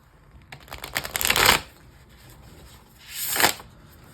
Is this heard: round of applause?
no